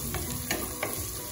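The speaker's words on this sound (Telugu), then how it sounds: "యాడ్ చేసుకొని లైట్ గా ఫ్రై చేసుకోవాలి।" Garam masala powder lightly frying in a pan while coconut rice is being made gives a soft, steady sizzle with a few faint scraping stir strokes. It is quiet and close, with no talk.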